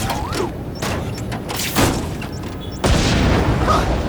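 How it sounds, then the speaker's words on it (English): Fireworks booming in The Amazing Spider-Man 2 video game, several loud bursts with crackling tails, the last blast sustained, against game ambience and no speech. "Friendly neighborhood fireworks."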